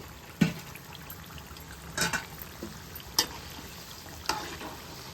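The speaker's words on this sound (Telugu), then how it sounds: "ఈ పాప్కార్న్ కూడా వేసుకొని వేపుకోవాలి" Chicken popcorn frying in oil makes a continuous low sizzle, broken by four sharp stirring clatters spaced about a second apart, close by and with no one speaking.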